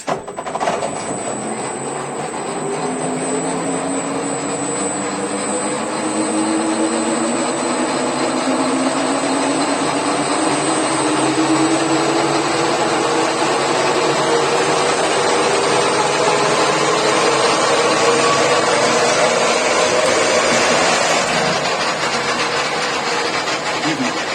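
A 1A616P lathe motor spins up smoothly toward maximum speed, its loud whine climbing gradually in pitch over a steady mechanical drone.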